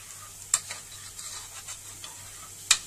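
Duck fries in a pan for a traditional Egyptian dish, a faint steady sizzle broken by a few crisp clicks and pops, with no talk.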